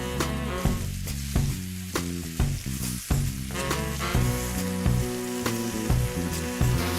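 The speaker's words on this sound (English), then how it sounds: "Now that the oil is medium hot, let's start frying these chicken pieces." Chicken pieces fry in medium-hot oil in a pan for a home-cooked butter chicken, giving a steady close sizzle with occasional stirring bumps, heard under fairly loud background music with no talking.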